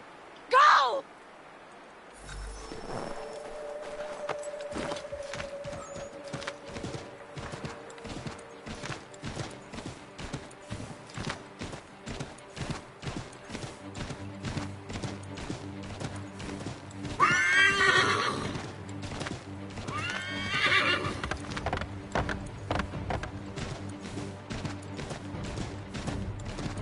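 Horse hooves clip-clop in a quick galloping rhythm in Assassin's Creed 3 Remastered, broken by loud whinnies, while a person speaks near the start.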